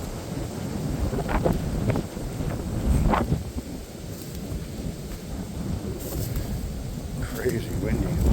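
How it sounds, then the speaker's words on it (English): Strong gusting wind roars and buffets the microphone continuously on an open clear-cut hillside, a heavy low rumble with occasional louder gusts throughout. "Crazy windy."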